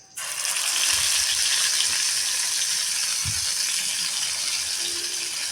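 Pangas fish sizzles steadily in hot oil in a wok, a loud continuous crackling fry that starts abruptly and holds for several seconds with no talk.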